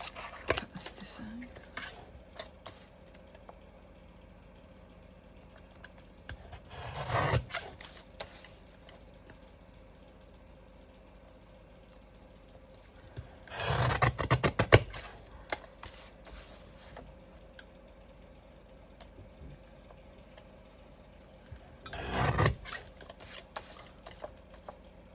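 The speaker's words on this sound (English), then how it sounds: "I'll just cut this to size." Paper is cut to size for a handmade journal in three short bursts of snipping and rustling, spaced apart against a quiet room hum.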